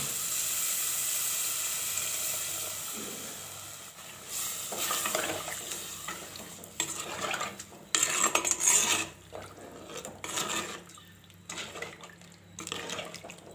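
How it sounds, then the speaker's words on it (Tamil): Tamarind water poured into prawn gravy in a pan sets off a sizzle and bubbling, followed by stirring with a spoon and scraping and clinking against the metal pan, heard close and without talk. "இப்போ வந்து நம்ம கரைச்சி வச்சுருக்க புளி அதில் சேர்த்துக்கலாங்க."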